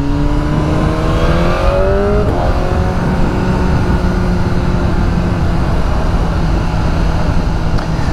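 A BMW M1000R motorcycle engine drones steadily while riding at cruising speed, a continuous close engine tone with a pitch sweep early on, under constant wind rush.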